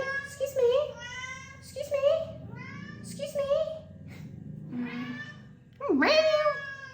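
A big ginger cat meows again and again, loud and close, giving about five drawn-out, wavering cries with short gaps between them and the last one the loudest.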